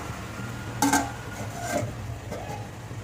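A metal lid set onto a cooking pot while making aar fish curry, one short clink followed by faint kitchen rattles over a steady low background hum.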